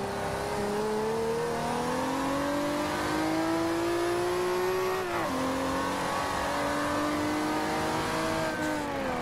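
Turbocharged 2JZ engine of a Toyota Supra drift car in the Forza Horizon 2 racing game, revving loudly and climbing steadily in pitch, dropping briefly at a shift, then pulling again, with faint tire noise and no talk.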